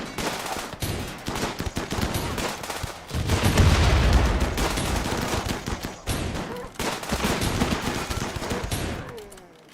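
Colonists in RimWorld open fire in bursts of gunshots, dense crackling volleys that swell and pause across the stretch, loud and close with no talking over them.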